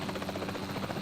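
A helicopter flies in Jurassic World Evolution 3, a steady close rotor thrum with rapid chopping pulses throughout, faint in level and without talk.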